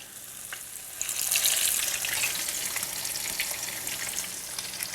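Zucchini fritters sizzle in hot oil in a pan, a steady close frying hiss that swells loudly after a quieter first second and holds with small crackles.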